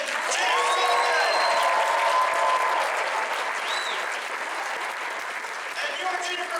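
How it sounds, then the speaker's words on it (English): A large convention audience applauds and cheers for Back to the Future cast members at a 40th anniversary reunion panel, loud and sustained throughout. A voice over the PA carries on above the clapping, and a few whoops stand out. "Start a round of applause and keep it going"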